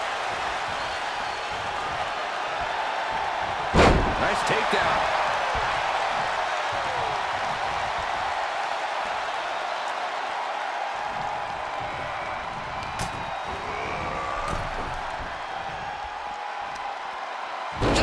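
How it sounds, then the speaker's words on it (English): A wrestling arena crowd roars at an AWA match, a steady dense wall of cheering and whooping with a few louder spikes of noise throughout. "This crowd is deafening"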